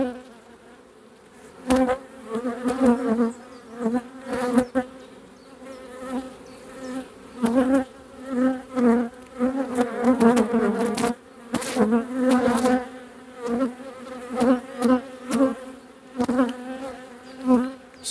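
Honeybees buzz loudly around an open spring beehive, a dense, close drone that swells and fades in uneven bursts as insects fly near, with no talking heard.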